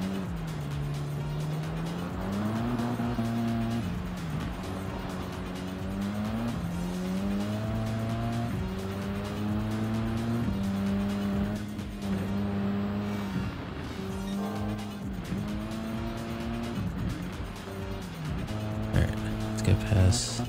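A Group B rally car in Gran Turismo 7 revs hard through gear changes, its engine note climbing and dropping in waves with tire squeal on corners, steady and close throughout, with speech over it.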